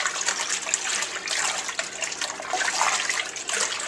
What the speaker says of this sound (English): Go ahead, dump it in the water. And, you know, whisk it around